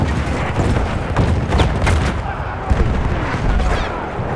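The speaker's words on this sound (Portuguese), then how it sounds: "Tá caindo muito tiro de cima aqui." Battlefield 1 combat with dense gunfire and booming artillery-like blasts, a continuous loud barrage throughout, with game chatter underneath.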